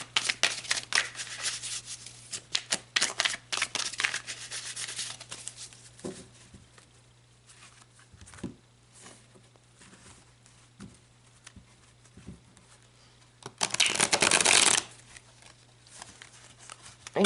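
Tarot cards being shuffled and handled close by, a long stretch of soft papery riffling and patting with a louder, dense burst of card friction near the end, no talking.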